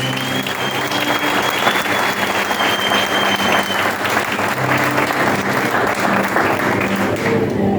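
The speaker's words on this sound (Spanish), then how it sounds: "Y le da un aplauso a mi rey." Sustained loud applause from a large church congregation, steady clapping throughout with a faint voice beneath.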